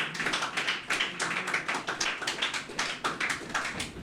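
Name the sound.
audience applause for first-place contest winner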